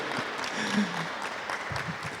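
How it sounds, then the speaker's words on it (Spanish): Congregation applause in a church service, moderate scattered clapping from the gathered crowd, soft and fairly even, with faint voices mixed in. "Un aplauso para Nayi."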